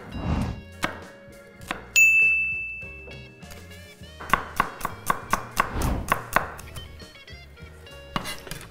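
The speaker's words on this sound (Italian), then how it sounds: "Vado a preparare la cipolla." Onion being chopped with a knife on a cutting board while making rice and zucchini soup, a run of sharp, rapid knocks with a few louder taps and a brief clink of dishes, close and clear with no talk.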